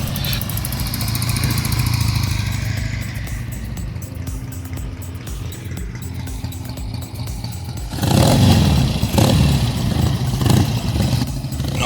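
Vintage motorcycles, a blue Triumph among them, purr and whir past nearby: a steady engine drone that grows louder and rougher as another bike rolls by with a revving, clattering surge near the end.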